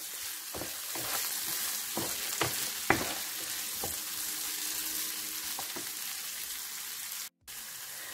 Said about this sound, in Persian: نصف پیمونه فلفل دلمه قرمز نگینی خورد شده رو بهش اضافه می‌کنیم و حدود 3-4 دقیقه هم با پیاز اونها رو تفت می‌دیم